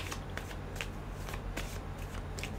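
Tarot cards being shuffled by hand in repeated soft riffling bursts, close and steady, with no talk over them.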